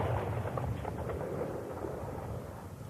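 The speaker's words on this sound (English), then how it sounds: "a 30mm secondary effects phosphorus shell is fired from a radon cannon into the unprotected 25-litre canister containing 4-star leaded petrol" A 30mm phosphorus shell fired from a cannon strikes an unprotected 25-litre canister of 4-star leaded petrol, producing a dull, distant roaring rumble that swells and then slowly fades without any sharp crack.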